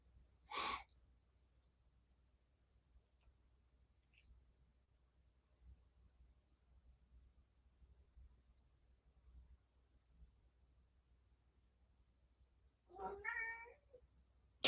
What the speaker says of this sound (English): My cat's meowing now.